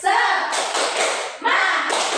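Classroom pupils perform a rhythmic spirit clap, two loud bursts of group clapping and tapping with children's voices mixed in.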